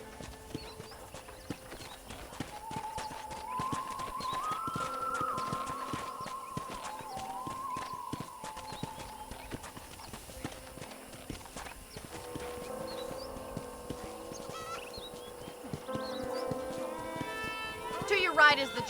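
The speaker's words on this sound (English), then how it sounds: "let's see if you can still ride a horse" Rhythmic clip-clop of horse hooves at a run in the Red Dead Redemption video game, steady and fairly close, with game music and a speaking voice over it and a brief whinny.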